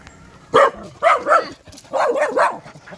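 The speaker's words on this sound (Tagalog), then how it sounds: "Kasama ang kanyang mga aso." A dog barks several times close by, sharp separate barks followed by a quick cluster of yips, with no talking.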